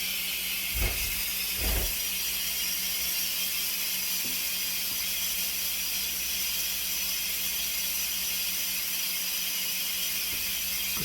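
A pressure cooker vents steam in a home kitchen, a steady loud hiss that runs for the whole stretch, with a couple of dull low thumps near the start.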